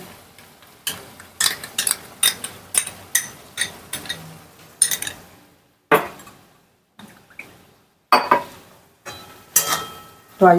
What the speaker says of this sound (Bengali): টক দইটা দিয়ে আমি একটু নাড়াচাড়া করে নিচ্ছি।